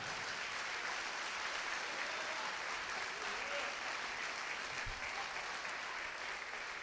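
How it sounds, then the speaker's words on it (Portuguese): A church congregation at an evening service applauds, a dense, sustained clapping that fills the room at an even level throughout, with no clear voices over it. "Você pode aplaudir Jesus com alegria nessa noite ou não?"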